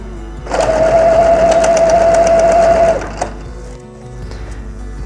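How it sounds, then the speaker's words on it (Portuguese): Sewing machine stitching elastic around a godet skirt, a steady loud whirring run of about two and a half seconds, then a brief click and quiet handling noises. "vou fazer uma costura em todo o contorno, portanto esticando, mas não passando por cima dele"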